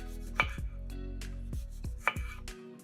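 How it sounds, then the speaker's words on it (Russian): A few sharp knife chops on a cutting board as a tomato is diced, close and clear with short gaps between strokes. "а затем режем кубиками"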